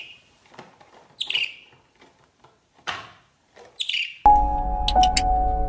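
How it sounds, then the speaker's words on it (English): A budgie gives scattered high, squeaky chirps and short twittering bursts with quiet gaps between them, followed near the end by a sudden loud, steady tonal hum that covers the last second and a half. "And number 3, the budgie."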